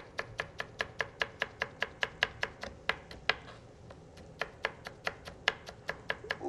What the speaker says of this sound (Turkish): Ondan sonra da ufak ufak maydanozumuzu doğrayalım